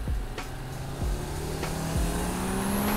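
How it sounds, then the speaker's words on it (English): The 2022 Audi RS 3 Sportback hatchback's engine roars close by, revving hard with sharp gear-change blips and a steady rising pull, loud and alone without any talk. "There is nothing, and I repeat, nothing in the world of hatchbacks that sounds like an RS3."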